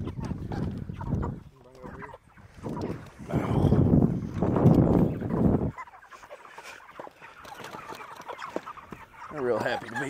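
Chickens cluck and chatter inside a hoop structure, in loud bursts of close calls alternating with quieter stretches, with wind buffeting the microphone and people talking nearby.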